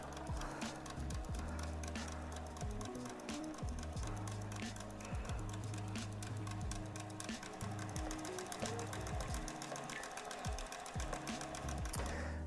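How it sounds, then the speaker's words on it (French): A Kansai Special chainstitch sewing machine runs steadily and loudly with a dense, continuous mechanical whir, rapid needle clatter and rhythmic ticking throughout, sewing through several fabric layers; no voices. "C'est une machine vraiment qui est intéressante, qui est assez fandard à voir travailler."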